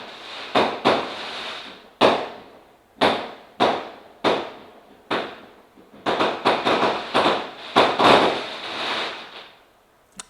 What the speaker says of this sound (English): And the fireworks are going off again.